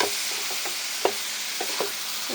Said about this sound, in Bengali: এখন কাঁচামরিচ এখন মশলার সাথে দিয়ে দেবো চিংড়ি মাছ